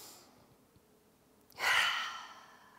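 One deep audible inhale during a yoga shoulder roll comes as a single close breath after a quiet stretch, with no speech over it.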